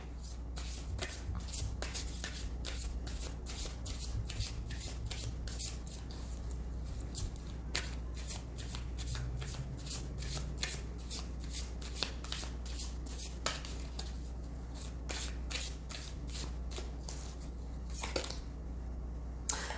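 A deck of animal spirit oracle cards is shuffled over and over, giving rapid papery riffles and soft slaps that run steadily throughout, close and fairly quiet, with no talk.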